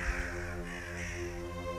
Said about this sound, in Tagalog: hindi siya tinatantanan ng tila galit ng mga ibon